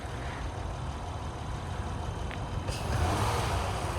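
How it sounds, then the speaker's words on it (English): A 2013 Honda Odyssey EX-L minivan with a fresh timing belt service, its engine revved to a higher RPM as a steady broadband hum that swells slightly toward the end, heard alone without talk. "I'm going to rev up the engine a little bit so you can hear it at a little higher RPM"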